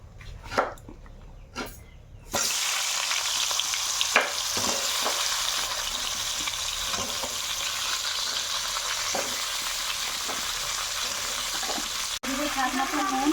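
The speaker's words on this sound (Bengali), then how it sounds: "খিচুড়ির জন্য সবজিটা আমি হালকা ভেজে নিব" After a few brief knocks, vegetables for khichuri hit hot oil and fry with a strong, continuous sizzle, punctuated by occasional stirring scrapes; a short, faint voice-like sound comes near the end.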